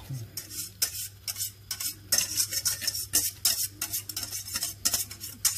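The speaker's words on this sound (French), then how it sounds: "on va le mettre dans un plat à tarte qui va au four" Hot caramel for a tarte Tatin is pushed around a tart dish, giving a rhythmic run of scraping strokes against the dish, close and fairly quiet, with a low steady hum beneath.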